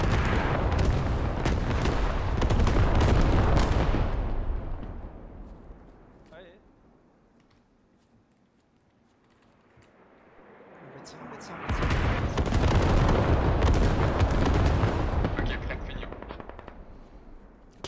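Artillery shells fall in the video game Squad, heavy rumbling barrages of blasts swelling loudly, fading to near quiet, then returning in a second dense burst, with people talking over them.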